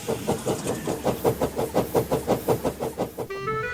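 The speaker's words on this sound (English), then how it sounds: "Spencer left to pull the train" A small engine on a wooden toy railway chuffs along in a quick, regular rhythm of puffs, then a brief whistle-like tone sounds at the end.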